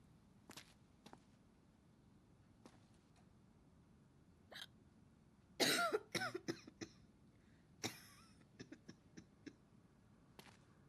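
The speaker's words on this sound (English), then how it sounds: "You have a cough and a sneeze." A character in the Quarantine Zone video game coughs and sneezes, with a few soft isolated coughs, then a sharp loud sneeze burst followed by quick sputtering coughs, and more small coughs trailing off, all fairly faint against quiet background.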